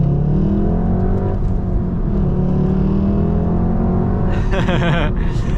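Volkswagen Golf GTI, a manual with short gearing and quick acceleration, pulling away with a steady, loud engine drone that rises in pitch as it accelerates, with a sharper burst of revving near the end.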